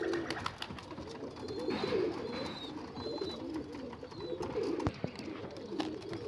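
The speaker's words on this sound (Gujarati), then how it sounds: "આ આપણો જૂનો કબૂતર છે" An old pet pigeon coos in low, throaty, rolling bursts repeated over several seconds, close by, with faint chirps from other birds in the background.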